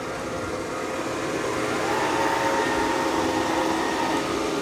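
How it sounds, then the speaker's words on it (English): A Dreame robot vacuum's suction motor hums with a steady whir at close range, with a slight rise in intensity partway through as it kicks back on, alone with no voices. "You can hear the vacuum kick off and then kicks back on automatically."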